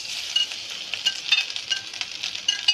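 Carrots drop into hot oil for a Sri Lankan jackfruit curry, crackling in a close, busy sizzle with light stirring clinks and pops.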